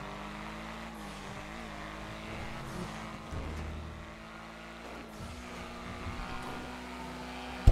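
Car engine droning steadily while driving in the video game GTA Online, with a low continuous rumble and a brief louder surge midway, ending in a sharp thump.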